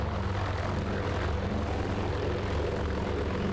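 Catalina flying boat engines roar through the takeoff roll at an air display, a dense, continuous propeller drone that stays loud and steady throughout.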